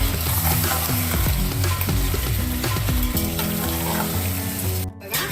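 Spicy Maharashtrian chicken thecha simmering in a pan is stirred, giving a loud, continuous scraping and sizzle with steady bubbling and a brief dip near the end.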